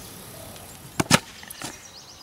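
A thrown tomahawk strikes and sinks its blade into a watermelon outdoors, giving a sharp double thud up close, followed by a fainter knock as the fruit splits.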